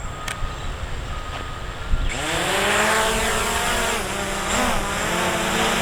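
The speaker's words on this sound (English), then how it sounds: "both sticks down and out to start the motors" Budget drone motors spin up for takeoff, Visuo Zen K1 or SG906 Pro, a high whining buzz that starts abruptly after a few faint clicks and then holds loud and steady, wavering slightly in pitch as the rotors settle.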